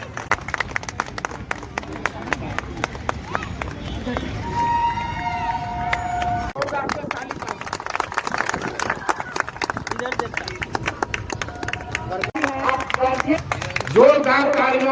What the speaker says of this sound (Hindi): जोरदार तालियों से स्वागत करें उनका